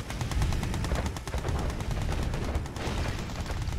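Gatling cannons fire in the Command & Conquer Yuri's Revenge strategy game, a loud, rapid stream of overlapping shots that runs nonstop across the whole stretch with dense battle noise behind it.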